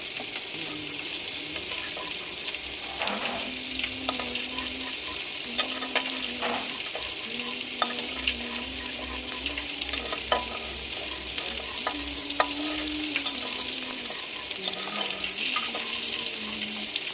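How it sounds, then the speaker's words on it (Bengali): Panch phoron spices frying in oil for a vegetarian okra dish, a continuous sizzle with intermittent stirring scrapes and soft clicks, accompanied by a steady melodic tone in the background. "পাঁচ ফোড়নটা আমি এবার একটু ভেজে নিচ্ছি, ভালো করে গন্ধ ওঠা অবধি 5 ফোড়নটা আমি ভেজে নেব।"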